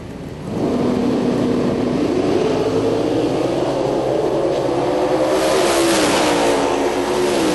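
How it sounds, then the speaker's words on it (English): A naturally aspirated 1968 Pontiac Firebird drag car with a 499-cubic-inch Pontiac engine launches and accelerates hard at a drag strip event, its loud engine note rising steadily in pitch, close and dominant throughout. "68 Pontiac Firebird. Naturally aspirated all Pontiac power, 499 cubic inches."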